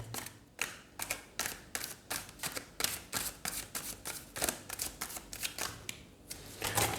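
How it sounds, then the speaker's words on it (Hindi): A large 135-card oracle deck is shuffled by hand in a quick, regular series of crisp riffling bursts, close and fairly quiet, with no talk. "इसको बस शफल करना मुश्किल होता है क्योंकि इसका साइज़ बहुत बड़ा है"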